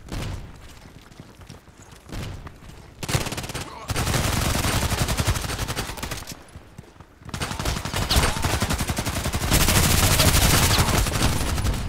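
Bursts of automatic gunfire in the online shooter Contract Wars, loud sustained rattling volleys broken by short pauses, with a faint voice underneath at moments.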